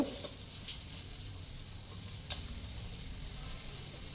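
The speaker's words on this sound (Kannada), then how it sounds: "ಈರುಳ್ಳಿ ಅಷ್ಟೇ ಸ್ವಲ್ಪ ರೋಸ್ಟ್ ಆದರೆ ಸಾಕು ಪಿಂಕ್ ಕಲರಾಗೆ ಕಲರ್ ಚೇಂಜ್ ಆದರೆ ಸಾಕು" Chopped onions fry in a pan for radish chitranna, a quiet, steady sizzle with soft stirring scrapes and a few small pops and clicks, with no talking.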